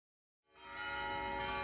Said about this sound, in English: It's noon, and so the bells ring.